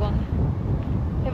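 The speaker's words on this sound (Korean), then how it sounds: "지금 바람 좀 많이 불거든요" Strong wind buffets the microphone at the seaside in Sokcho, a steady low roaring rumble filling the short stretch without a break.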